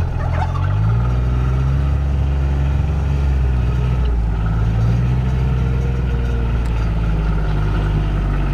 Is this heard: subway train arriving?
no